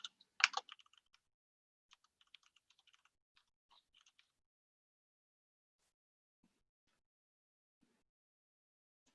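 Light typing on a computer keyboard: a quick cluster of clicks at the start, then scattered faint taps tapering into near silence.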